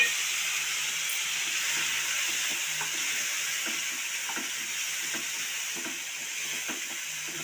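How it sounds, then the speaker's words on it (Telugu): Tomatoes and coriander frying together in a little oil for chutney, a steady soft hiss of sizzling with faint intermittent stirring taps, close and even, no voices. "కొత్తిమీర కూడా వేయించుకోండి. రెండు ఒకేసారి వేగిపోతుంది."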